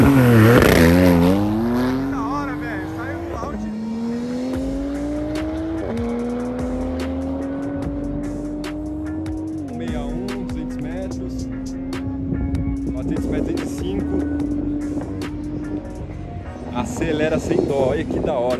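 A Turbo S car accelerating hard at a car event, its engine note climbing steadily through several gear changes, each shift dropping the pitch before it rises again, with excited talk over it and a louder burst at the end.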